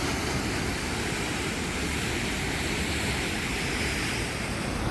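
Loud, steady roar of water rushing through Rogue Gorge, a narrow basalt chasm in Oregon, with a constant broadband churn and no pauses or voices throughout.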